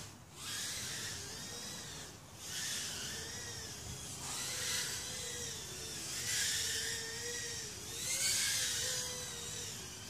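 A Furibee Q95 FPV quadcopter drone runs its small brushless motors, a close, steady high-pitched whine that rises and falls in pitch in repeated surges as the throttle changes.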